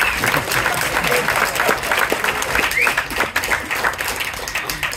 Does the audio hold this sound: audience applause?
yes